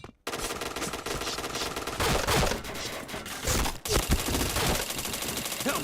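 Rapid bursts of automatic gunfire from the Point Blank online shooter, dense and continuous with a brief gap near the four-second mark, loud and close throughout.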